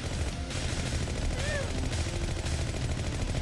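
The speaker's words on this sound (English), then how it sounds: "Stop shooting!" Gunfire in the video game Battle Bears, rapid machine-gun bursts forming a continuous rattling barrage under a loud game soundtrack, with a brief descending whistle partway through.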